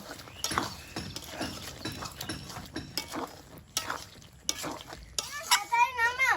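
Kasundi potato curry being stirred in a pan, with a spatula scraping and knocking against the metal in an uneven rhythm, close by, while someone talks over it.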